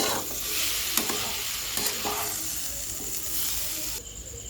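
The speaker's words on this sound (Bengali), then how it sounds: "এবার ভালো করে মশলাটা কষে নেব।" Chana masala spices frying and being stirred in a pan for ghugni, a steady close sizzle with scattered scraping clicks from the spoon, no voices.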